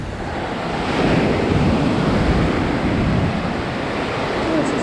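Ocean waves at Batu Bolong Beach in Canggu, Bali, surging loudly up the shore in a continuous wash of surf, with wind buffeting the microphone and no one speaking.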